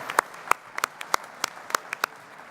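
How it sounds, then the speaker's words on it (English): Sparse, scattered clapping from a small gala audience honoring two award recipients: about a dozen distinct, crisp claps, moderately faint and irregularly spaced, with no voices. "one more round of applause for both our honorees, Dr. Leo Chu, or Mr. Leo Chu and Dr. Ethan Allen"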